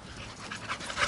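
A dog pants in quick, faint, breathy bursts close by for about a second, with no one speaking.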